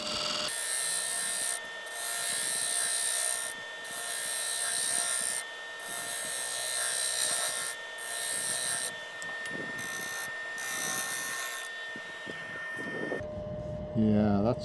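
A wood-turning gouge takes shear-scraping cuts across a spinning bowl on a lathe, making a steady raspy scrape in repeated passes over the lathe's hum. A brief whine near the end.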